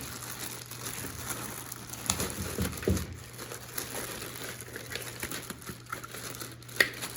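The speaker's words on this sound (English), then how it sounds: "So I'm gonna go ahead and rip the bag open." A plastic bag holding parts for a hard hat is torn open by hand, making close, crinkly rustling and crackling that flares briefly in the middle over low background hum.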